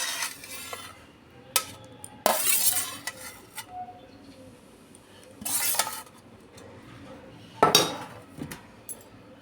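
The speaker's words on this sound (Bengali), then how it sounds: "তারপর আমি আবার দুটো থালার থেকে একটা থালায় নিয়ে নিচ্ছি" Metal plates clink and clatter in a few sharp bursts as grated coconut is moved from two plates onto one, close by, with quiet gaps between the knocks and no talk.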